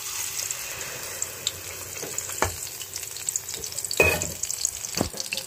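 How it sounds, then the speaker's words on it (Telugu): Paste of dried coconut, ginger, shallots and onion frying in oil, a soft continuous sizzle broken by a few sharp spatula scrapes and stirs near the pan. "పేస్ట్ అయితే వేసేసి వేయించేసుకోవాలి"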